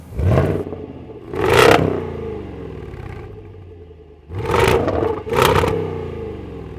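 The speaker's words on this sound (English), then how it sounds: "Just listen to that exhaust." Supercharged 5.0-litre V8 exhaust on a 2019 Jaguar F-Pace SVR, blipped in loud bursts: two rising revs, a settling idle rumble, then two more sharp revs close by with no talking.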